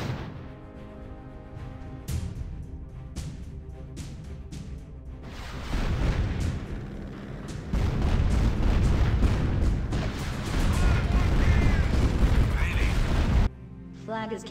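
Artillery fire in the strategy video game Art of War 3, with repeated deep booms and blasts that build into a dense, continuous barrage, under brief game voice callouts.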